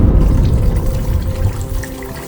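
Parboiled brown rice being washed in water, a steady close sloshing and splashing of grains and liquid that fills the short clip with no voices.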